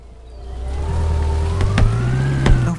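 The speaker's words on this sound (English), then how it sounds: "Let's hop into my convertible supercar." A convertible supercar in the video game Sneaky Sasquatch drives off, its engine tone rising steadily under a siren-like whine, with a couple of sharp clicks near the end.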